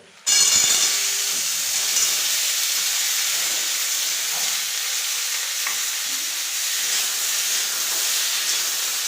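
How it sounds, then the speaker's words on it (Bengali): Crab going into a small amount of hot oil starts a sudden loud sizzle, which settles into a steady, close frying hiss that lasts to the end. "এই তেলটা গরম হয়ে গেছে, অল্প করে তেল দিয়েছি। এবার এই ক্যাংড়াটাকে দিয়ে দেবো।"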